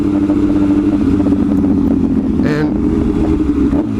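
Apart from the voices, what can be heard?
motorcycle engine revving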